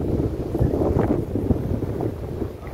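Strong wind gusting and buffeting the microphone at the hilltop viewpoint of Illikkal Kallu, Kottayam, Kerala, a steady rumbling roar with no voices.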